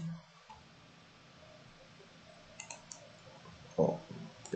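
A computer mouse clicks while modelling in Revit: a few faint, light ticks, then one sharper, louder click near the end, over a quiet room hum.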